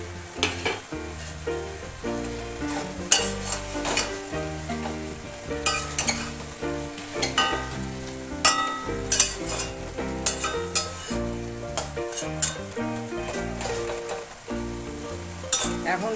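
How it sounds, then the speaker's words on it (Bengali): Hilsa fish head sizzling in hot oil in a pan, a steady crackling fry broken by repeated clinks and scrapes of a metal spatula against the pan, close and fairly loud. "এবার মাছের মাথাটা দিয়ে দিচ্ছি এখন"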